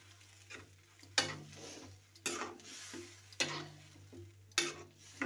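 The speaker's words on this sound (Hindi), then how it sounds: "और इसे 10 मिनट तक धीमी आंच में पकाएंगे" Potatoes cooking in a pan over a low flame, a quiet simmering sizzle broken by four louder swells of stirring or scraping spaced about a second apart, with a steady low hum underneath and no talking.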